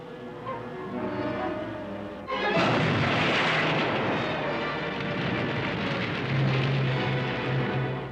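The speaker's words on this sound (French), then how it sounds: "Il a explosé." Missile explosion in a sci-fi television drama, a sudden loud booming blast after a quieter rumbling lead-in, followed by a sustained roaring, crackling wash that slowly fades.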